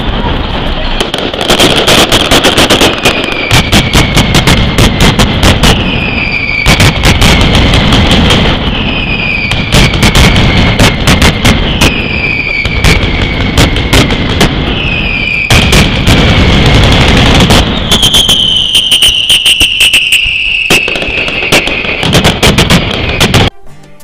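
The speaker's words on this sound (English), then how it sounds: "the loud unexpected explosions in the middle of the day gave us a fright too" Rapid volleys of sharp firecracker blasts from a mascletà in Valencia crackle and boom in dense bursts, pausing briefly between waves, with a high whistling tone drifting over the barrage.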